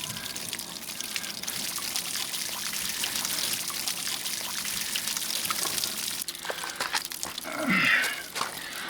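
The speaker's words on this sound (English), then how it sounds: "I'm going to go ahead and turn the water on." Water running steadily into an RV's Dometic SW10DEM water heater tank during a flush, a continuous trickling, pouring wash at moderate level with a brief louder gush near the end.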